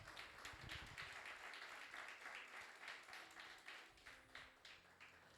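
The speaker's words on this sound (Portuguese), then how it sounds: "Pode bater palmas." A church congregation claps together through a sermon pause, a dense, steady wash of many hands at moderate distance, thinning slightly toward the end.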